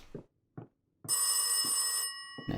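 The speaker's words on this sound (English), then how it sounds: "Ah, phone call." A telephone bell in the horror game Rise of Insanity rings once in a bright, sustained trill of about a second, loud and close, between short soft thuds.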